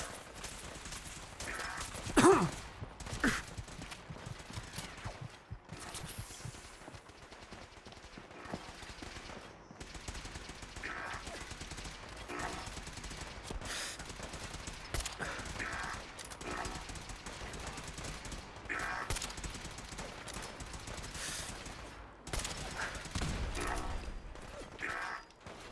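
Gunfire from the video game Fallout 4: repeated bursts and scattered shots over a dense, busy game mix with mechanical clatter, with one sharper crack near the start and a voice speaking at times.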